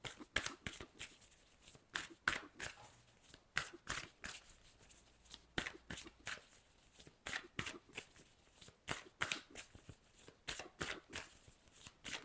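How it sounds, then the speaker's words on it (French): Tarot cards shuffled by hand, a quick run of soft rhythmic riffles and slaps repeating closely and quietly for several seconds with no talking. "Je brasse bien."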